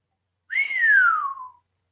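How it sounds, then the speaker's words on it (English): A single clear whistle from a person, a short note that starts high and glides steadily downward for about a second, alone against silence. "makes a sort of whistle sound and then claps"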